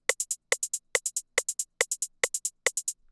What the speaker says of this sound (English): The hi-hats are going to sound like this.